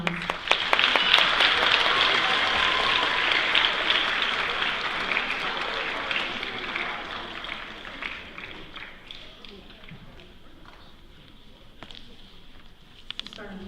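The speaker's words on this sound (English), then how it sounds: "Go ahead and give them a round of applause." Audience applause for spelling bee contestants in a hall, a loud burst of dense clapping that gradually thins and fades over several seconds into scattered claps and faint room noise.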